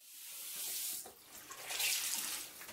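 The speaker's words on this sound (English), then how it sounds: "I'm gonna get some hot water on this" Hot water from a tap runs steadily into a sink for a facial towel soak, a broad close splashing hiss with a brief dip midway before surging louder again.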